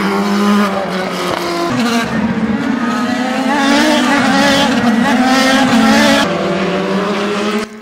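IndyCar race cars cornering through a sweeping S-shaped section at the Honda Indy Toronto street circuit, a loud, high-pitched engine whine shifting in pitch as the cars pass nearby.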